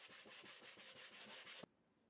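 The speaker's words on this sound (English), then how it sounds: "I'm just going to do a bit of sanding to round over the handle to make it comfortable to use." Brisk back-and-forth hand sanding strokes rounding over a wooden box handle, close and rhythmic, stopping abruptly after about a second and a half.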